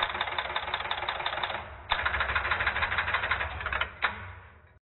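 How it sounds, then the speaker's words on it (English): A step-by-step telephone exchange line finder and relays run in the background: a dense, continuous mechanical clatter of rapid ratcheting clicks, broken by a short pause and a sharp relay clack near the end, with no speech. "You can reference the sequence and timing of these events to the sound of the line finder action in the"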